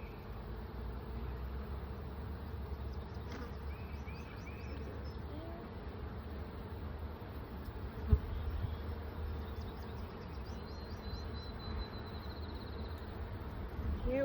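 Honey bees buzz in a continuous, close, steady drone during a spring hive inspection, with a few faint bird chirps above and a brief knock partway through.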